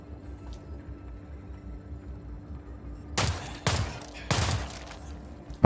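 A ceiling turret in System Shock fires three sharp, loud gunshots in quick succession after a quiet, humming stretch.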